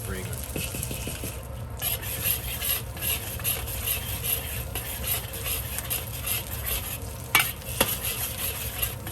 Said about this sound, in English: And we're going to fry this until it's nice and fragrant.